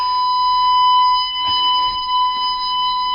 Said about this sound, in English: the first thing you'll hear is the alarm going on the console behind me